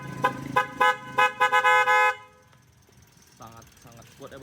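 A Hella 12V snail-type car horn fitted to a Toyota Calya sounds a series of loud, short honks in rapid rhythm, followed by quieter talk.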